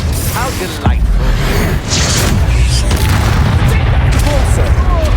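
Explosive Bombarda and Confringo spells cast in Hogwarts Legacy burst as loud booming blasts over a roaring combat din, while a voice calls out spell names during the fight.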